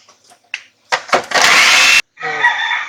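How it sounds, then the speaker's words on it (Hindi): An electric grinder whirs loudly as it grinds soaked lentils for laddu, starting with a few short bursts before running steadily, then pausing briefly and starting up again. "तो अब मैं दोबारा इसे पीसूंगी।"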